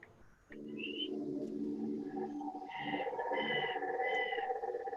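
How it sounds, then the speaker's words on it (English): A bird calling in the background, short repeated tonal chirps over a steady low hum, faint and distant, with no talking. "That bird said meep in the background"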